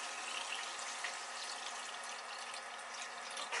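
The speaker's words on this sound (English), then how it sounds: "I'm going to go ahead and pour my developer in" Liquid film developer poured into a development tank for color film processing, a steady quiet hiss-like trickle continuing throughout with no talking.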